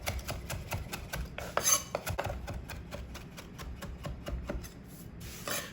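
A kitchen knife chops garlic, basil and herbs for trofie al pesto, giving a steady run of quick, close taps on a cutting board with no talking.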